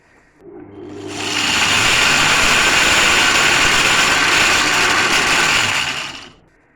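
Roasted lime tree seeds are ground in a loud electric grinder that spins up, holds a steady dense whirring roar for about five seconds, then winds down.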